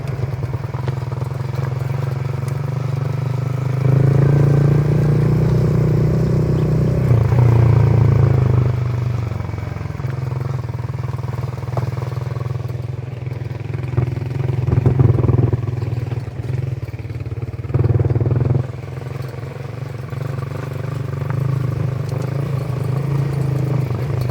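A motorcycle engine runs steadily up close on a rough road, rising and falling in pitch, with rattling and clatter from the bike as it rides.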